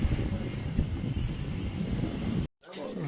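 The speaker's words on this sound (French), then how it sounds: "Il y a un peu de vent." Wind buffets the microphone above a small harbor in Asilah, Morocco, with a loud, rough rumble that runs continuously, then cuts out abruptly near the end.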